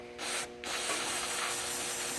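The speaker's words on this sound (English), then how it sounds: "So I hose down the entire damn thing. I'll use 2 or 3 cans of brake cleaner on the backing plate itself" Aerosol brake cleaner sprayed in a steady, loud hiss onto a brake backing plate during a front wheel bearing service, with one brief pause near the start and then a continuous close-up spray with no talking.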